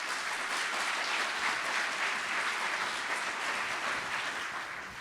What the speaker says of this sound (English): Let's all give Yasuaki a warm of applause.